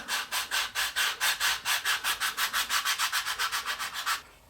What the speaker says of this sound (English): I'll use this piece of sandpaper on the block, and I'll just give it a light sanding